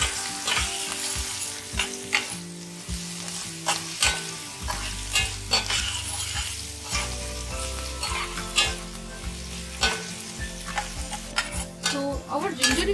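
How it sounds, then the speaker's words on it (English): Chopped ginger roasting in hot oil in a pan for an eggplant and potato curry, a steady loud sizzle with frequent clinks and scrapes of a spoon stirring against the pan. "Roast the ginger for a minute."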